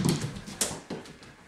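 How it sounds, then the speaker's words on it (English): A family dog in a home kitchen gives a few short, faint whimpers and soft yelps, with a light knock or thump between them. "And that is the dog."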